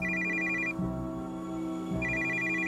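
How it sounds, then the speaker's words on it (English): Telephone ringing in a horror video game, an electronic ring in two bursts with a pause between them, under a low droning ambient background. "That's the phone."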